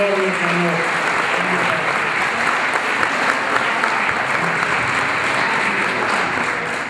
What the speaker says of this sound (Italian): anche loro meritano un applauso per il lavoro enorme che hanno